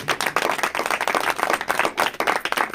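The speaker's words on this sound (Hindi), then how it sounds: "एक जोरदार ताली बजाइए।" A church congregation at a Sunday meeting claps together in a close, energetic run of quick, slightly uneven hand claps, steady and loud throughout with no talking over it.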